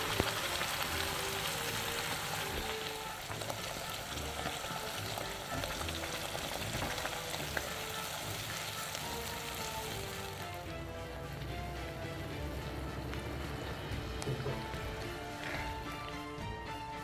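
Garlic and chili paste fry steadily in a pan for Schezwan sauce, a continuous broadband sizzle with stirring, partly overlaid by tonal background music and easing slightly in the last seconds.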